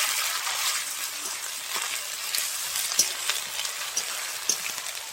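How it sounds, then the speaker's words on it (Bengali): Garlic paste frying in oil in a pan while being stirred, giving a steady quiet sizzle with a few soft scrapes and pops, close by and with no voices. "প্রথমে আমি দিয়ে দেবো রসুন বাটা। রসুনটাকে একটু ভালো করে নাড়িয়ে নিব তেলের সঙ্গে"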